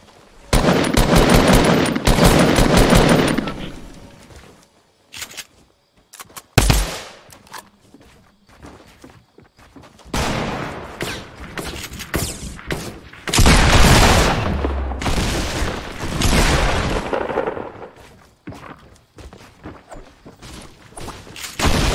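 Video game gunfire crackles in dense automatic bursts and rapid single shots, loud and close, broken by short quiet gaps and a few heavy booms, with no talking.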